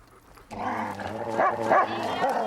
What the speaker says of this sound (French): Ces 2 dominants s'affrontent par des grognements, aboiements